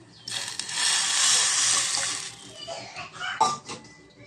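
Water poured from a glass into tomato rasam in a pot, a loud broadband gush lasting a couple of seconds that tapers off, followed by a few softer splashes and clinks.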